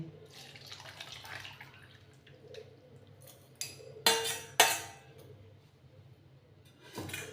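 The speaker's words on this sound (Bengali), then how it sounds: "আমি এবারে ছাঁকনিতে ছেঁকে নিচ্ছি।" Cooled jamun juice poured through a kitchen strainer gives soft trickling and dripping, broken by a couple of sharp metallic clinks of the strainer against a bowl, with quiet room noise between.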